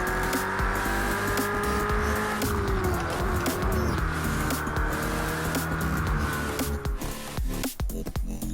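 A 2020 Ferrari GT race car laps Brands Hatch in the Assetto Corsa Competizione racing game, its engine note loud and constant, rising and falling through gear changes, with brief tire squeal in the corners.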